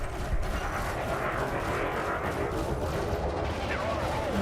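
Spaceship weapons fire in a rapid, sustained stream during Elite Dangerous PvE combat, with steady rumbling shots and engine drone throughout and a voice talking over them.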